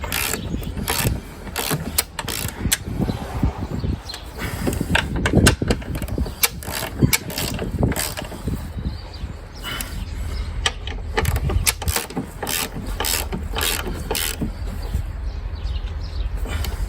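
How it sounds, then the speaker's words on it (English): A hand ratchet clicks in rapid bursts while tightening bolts on a 2007 Buick Lucerne during a transmission fluid change in the snow, close and steady with clanking tool handling throughout. "Now we just got to tighten up those bolts on top."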